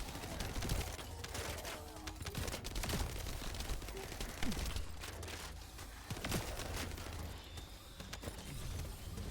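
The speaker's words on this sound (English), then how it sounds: "Assault turret activated." Rapid bursts of automatic fire from an assault turret in The First Descendant, dense and crackling throughout amid other game noise, at fairly low volume.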